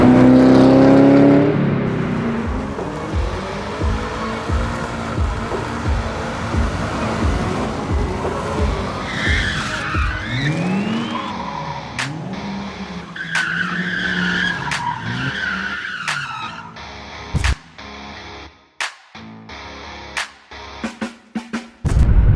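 A.I.V. supercharged Panoz Roadster accelerating hard, a loud rising engine roar with tire squeal near the start, then fading off into the distance with a few sharp knocks and clicks.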